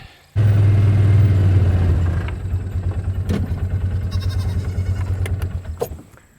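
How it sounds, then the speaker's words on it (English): A side-by-side utility vehicle engine fires up abruptly near a goat pen, then runs loud and close with a steady low drone and a brief rev before cutting off at the end. "I'm gonna have to start the side by side."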